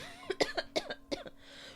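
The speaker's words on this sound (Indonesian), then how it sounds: "Batuk guys." A person coughs several times in quick succession, short sharp bursts close to the microphone in a quiet room, followed by a soft exhale.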